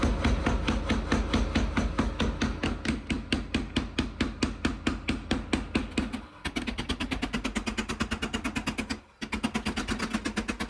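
Power hammer forging ribbed steel rebar into a flat billet for a knife: a long, steady train of loud, rapid metallic blows, close up, broken by two brief pauses before the pounding resumes.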